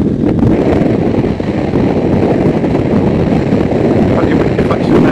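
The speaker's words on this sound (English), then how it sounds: "That's the air here, so it's actually flying over my helmet" Steady wind roar buffets the helmet of a rider on a Kawasaki Ninja 1000SX motorcycle, a loud, continuous low rumble of rushing air with no gaps.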